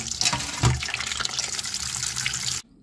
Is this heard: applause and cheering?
no